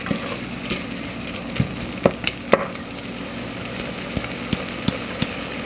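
Vegan molokhia cooking in a pan gives a steady soft sizzle with scattered sharp pops and faint stirring clicks, moderately near and without talk.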